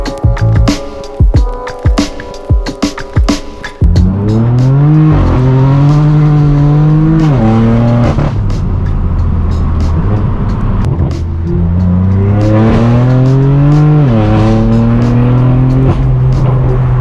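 A straight-piped BMW M4 F82 with a loud exhaust crackles and pops up close, then revs hard through several gears with rising, blaring engine notes from the driver's seat.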